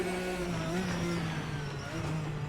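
A race car engine in Assetto Corsa drones at steady high revs with a sustained buzzing tone that wavers slightly as a downshift is missed, continuous and fairly loud.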